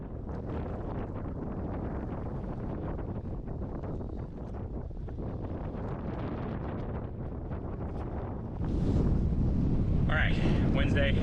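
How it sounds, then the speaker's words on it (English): A strong north wind of around 20 mph on a bay blusters into the microphone as a continuous low rumble, rising heavier near the end, with a voice speaking under it. "It's about a 20-mile-per-hour wind coming almost dead head"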